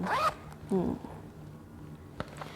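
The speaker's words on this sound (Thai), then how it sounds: "เขาให้มาเป็นช่องซิปหนึ่งช่องนะคะตรงกลาง" Zipper on the coin pocket of a Gucci Ophidia chain wallet, two short close zips pulled in quick succession, then small handling clicks and rustles of the leather wallet.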